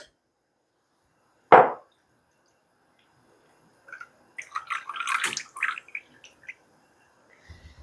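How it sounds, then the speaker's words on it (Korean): Water is poured off settled starch in a bowl while preparing sweet and sour pork, with one sharp knock, a pause, then a short run of close splashing and trickling. "그러면 물 좀 따라 낼게요"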